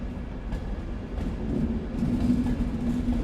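A Virgin Trains East Coast train rolls into York Station bound for London King's Cross, a low, rumbling mix of engine hum and wheel noise with a steady tone rising slightly as it draws near.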